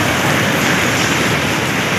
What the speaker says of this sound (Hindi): और बारिश आ रही है तगड़ी वाली